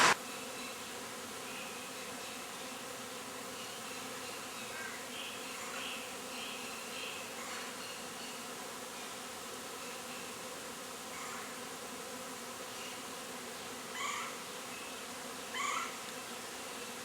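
A honeybee swarm buzzing around a hive, a soft, continuous drone of many wings with occasional louder individual bees passing close, no voices.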